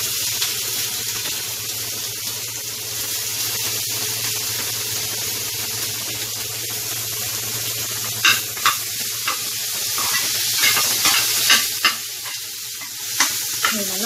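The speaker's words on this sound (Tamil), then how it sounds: "அது நல்லா வதங்கிடுச்சு. இப்போ இந்த கோஸு அள்ளி போட்டுக்கலாம்." Cabbage and carrot sautéed and stirred in a pan for vegetable momo filling, a steady close sizzle with scraping stirs that grow more frequent and sharper toward the end.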